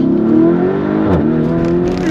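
Engine of an 800-horsepower Lamborghini Urus working as a taxi, rising in pitch as it accelerates hard from inside the cabin, steady and loud, with a short swell midway and excited voices talking over it.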